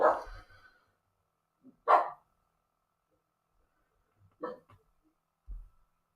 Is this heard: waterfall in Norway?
no